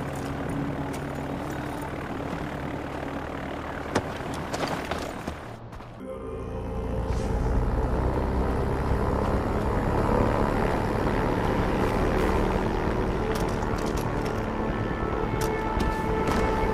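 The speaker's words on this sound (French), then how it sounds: "Le dossier dans l'avion qui va décoller." Propeller airplane engine idling and spooling up before takeoff in the video game Far Cry, a steady droning hum that surges louder after a brief dip and holds a dense, sustained roar.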